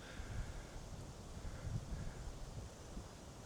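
Steady coastal wind at full tide buffets the microphone with low rumbling gusts, continuous and moderately loud, no voices.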